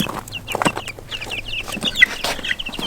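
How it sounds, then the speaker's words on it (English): Farm chickens hatched on the farm cluck and chatter in a busy, close flock, with overlapping short calls and a few sharper squawks and no talking. "So these are our first very own chickens that we've hatched out on the farm."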